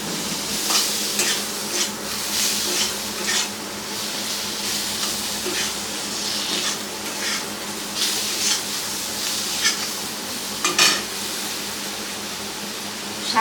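Leafy greens stir-fried in a pan for a Bengali Chaitra Sankranti home meal: a steady close hiss of sizzling oil runs throughout, broken by repeated scraping and stirring strokes, with no talking.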